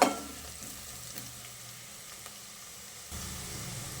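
Turmeric frying in a pan for potato curry, with a steady soft sizzle and occasional stirring scrapes, close and continuous with no talk.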